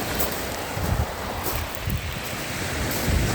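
Waves washing ashore on a Lake Ontario beach at Woodbine Beach in Toronto during winter, a steady broadband surf rush with soft swells, mixed with wind noise on the microphone.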